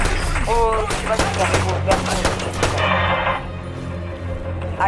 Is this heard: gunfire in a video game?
yes